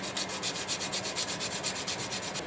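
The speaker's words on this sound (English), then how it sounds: "some freshly grated nutmeg." Fresh nutmeg grated by hand, a quick regular series of about fifteen raspy scraping strokes, close and fairly quiet, with no voices.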